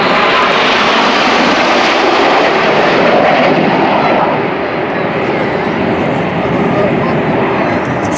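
Jet aircraft of the RAF aerobatic display team roar past, a loud broad engine rush that swells and then eases as they pass, with a commentator talking over it.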